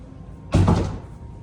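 A coat closet door in a rental home is pulled open, one short close wooden thud and rattle that fades quickly into quiet room tone.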